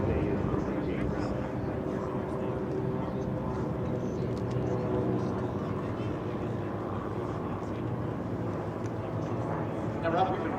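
A warbird aircraft approaches the runway at EAA AirVenture, its steady engine drone sounding as a continuous broadband rumble throughout, with people talking over it.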